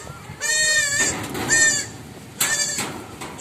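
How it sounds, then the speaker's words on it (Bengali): Goats bleat in three separate calls, loud and close, over a low outdoor rumble of wind as a storm builds while the animals head back toward the house. "দেখো ছাগলগুলো ঘরের দিকে যাচ্ছে।"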